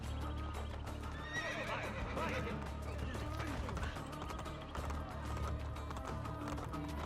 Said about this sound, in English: now it's just a slow horse ride or a horse walk